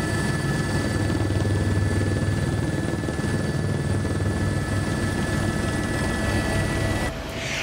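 A helicopter carrying heli-skiers over snowy mountains gives a loud, steady rotor and engine roar with a low throbbing pulse. It is heard close from inside or beside the aircraft, with no talking, and dips slightly at the very end.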